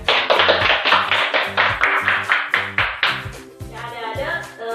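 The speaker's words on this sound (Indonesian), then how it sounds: "Berikan tepuk tangan" Clapping in a classroom during a sociology lesson, a run of sharp rhythmic claps, fairly close, that fades into a short tonal sound at the end.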